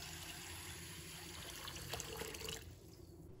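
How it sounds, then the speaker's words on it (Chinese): Clean water is poured over soaked mung beans, giving a close, steady trickling splash that runs for a few seconds and then stops abruptly. "再倒入清水"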